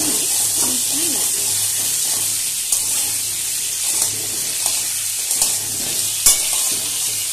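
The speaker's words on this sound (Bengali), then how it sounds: "এবারে গ্যাসের ফ্লেমটা মিডিয়ামে রেখে আলুগুলোকে ভালোভাবে নেড়ে চেড়ে নিয়ে মিশিয়ে নেব।" Cut potato pieces frying in oil over a medium gas flame while being stirred, a loud steady hiss and sizzle with occasional clacks of the spatula against the pan and brief speech at the start.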